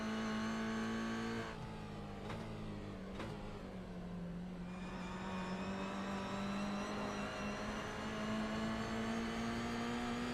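A GR Cup race car in a sim racing championship revs hard and steadily with rising engine pitch, a short lift and bumps early on, then a sustained loud drone with no talk over it.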